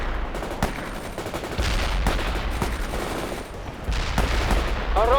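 Sustained machine gun fire in the World in Conflict battle scenario with Soviet forces against insurgents, dense repeated gunshot bursts rattling continuously with heavy low booms throughout, no talk.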